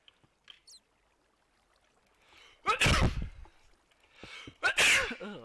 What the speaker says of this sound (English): Ugh, that was a big sneeze.